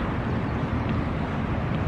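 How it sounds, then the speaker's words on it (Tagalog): Steady, roaring wind buffets the microphone, a continuous low rumble with no pauses and no voices. "Grabe, ang lakas ng hangin."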